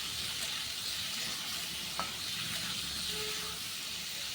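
Flat beans being stirred with salt and turmeric in a pan, giving a faint, continuous sizzle and hiss with a light scrape or two, heard close and quiet.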